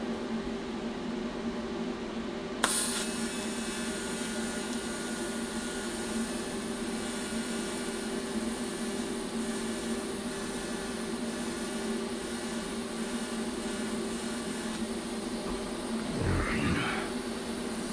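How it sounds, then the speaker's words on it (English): An arc welder at 130 amps lays a bead on thick gas cylinder steel. The arc strikes with a sudden crack, then gives a steady, dense hiss that runs unbroken for about fifteen seconds at close range. "I'm gonna go up to 130 amps. I've never welded that high before."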